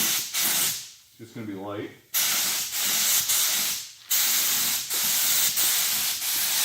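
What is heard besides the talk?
spray gun applying paint coat to bumper cover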